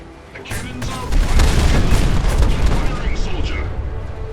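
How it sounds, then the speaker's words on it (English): Ship cannons aboard the USS Constitution in Fallout 4 boom in a dense, close broadside volley, heavy blasts overlapping into a sustained rumble with a voice speaking over it. "Soldier, man the cannons."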